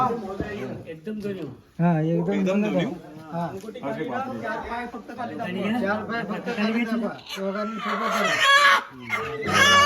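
Chickens cluck and a rooster crows in bursts, close by, mixed with people talking over them.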